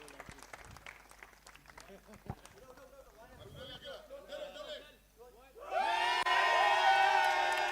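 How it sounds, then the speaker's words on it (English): Crowd at the final-day presentation of a youth premier league tournament bursts into loud applause and cheering for the unbeaten winning team, rising suddenly after scattered talk and outdoor murmur and holding steady. "I want everyone to please clap for them."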